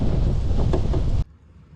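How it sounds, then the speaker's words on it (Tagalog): Loud, roaring wind on a fishing trip buffets the microphone with low rumbling gusts for over a second, then abruptly drops to near quiet. "Grabe, sobrang lakas ng hangin ulit."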